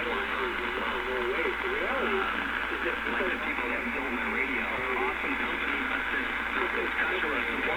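A Galaxy Saturn Turbo radio receiver being tuned as its dial is spun, giving a steady wash of static threaded with warbling, sweeping whistles and garbled voice fragments, continuous throughout.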